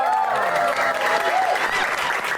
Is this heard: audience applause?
yes